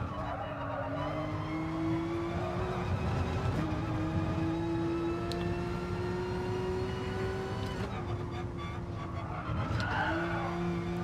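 Porsche RSR race car in GT Sport at Laguna Seca, its engine holding a loud steady high-revving drone throughout, shifting pitch with gear changes, while tires skid and squeal in bursts near the start and around the middle and end.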